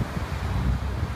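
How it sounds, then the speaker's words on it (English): Strong wind buffets an outdoor microphone at dusk, a dense, continuous roar of gusts with no speech, loud and close for a brief moment. "sorry about the wind"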